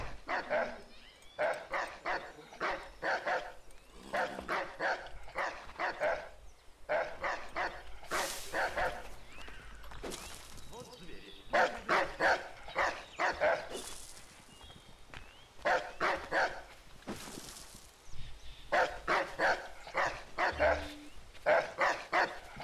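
A guard's dog in Assassin's Creed III barks in repeated bursts throughout, loud and close, with footsteps and occasional game sounds between the volleys.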